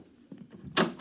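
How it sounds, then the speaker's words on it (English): A door swings shut in an office aboard ship, a broadband thump followed by a second shorter knock about a quarter second later, fairly close, with faint room movement before it. "Close the door on your way out."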